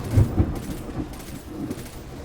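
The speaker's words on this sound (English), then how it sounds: "I don't know if you could hear that, but that was lightning." Thunder rumbles from a lightning strike in the Destiny video game, a low, rolling boom that peaks early then tails off into a steady rain-like wash.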